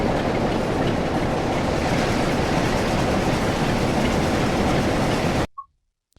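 Simulated Class 47 diesel locomotive running in Train Sim World on the WCML at Shap: a loud, steady, broadband rumble with rail clatter that holds for about five seconds and then cuts off abruptly, followed by a brief faint tone.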